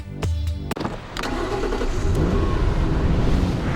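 An MG muscle car with a 4.6-litre V8 engine and rear-wheel drive roars steadily, its loud engine note building and holding close by after a few sharp clicks and knocks at the start.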